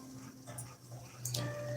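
A dog in a video game whimpers faintly under steady game ambience, with a couple of short high yelps near the end and no talking.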